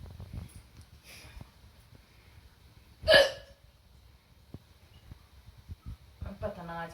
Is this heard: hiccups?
yes